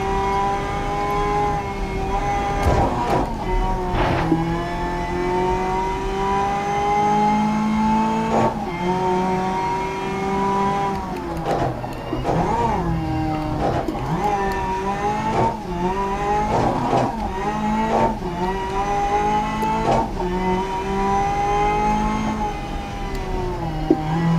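A racing game car driven on a Thrustmaster wheel drifts with a steady, rising and falling engine whine that shifts through gears, with tire squeal and sharp clicks breaking in throughout, continuous and fairly loud.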